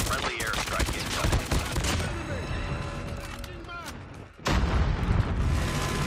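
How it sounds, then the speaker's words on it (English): Airstrike explosions in a ranked online first-person shooter match rumble as a dense, loud barrage of booms and gunfire, dipping briefly before a heavy new blast surges back in near the end. "Friendly airstrike incoming."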